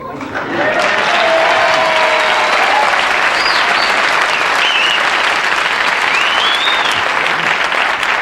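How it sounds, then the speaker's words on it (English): Sustained, loud studio audience applause on a late-night television talk show, swelling in and holding steady for several seconds, with a few faint voices and whoops riding over the dense clapping. "No, they're applauding because they love you"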